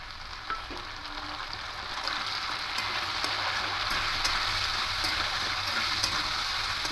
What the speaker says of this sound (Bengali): আলুটা হালকা ভাজা ভাজা হয়ে এসছে এবার এখানে টমেটো আর কাঁচা পাকা লঙ্কা দিয়ে দেব